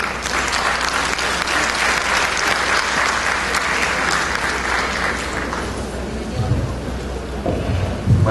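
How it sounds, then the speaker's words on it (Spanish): An audience at an education talk breaks into loud, dense applause for a guest commentator, a sustained close roar of clapping that thins out near the end. "Recibamos con fuertes aplausos para el doctor Martín Vegas."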